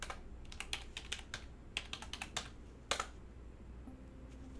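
Typing on a computer keyboard while playing the puzzle game Lingo: scattered bursts of close key clicks with short pauses between them, quiet room with no talk.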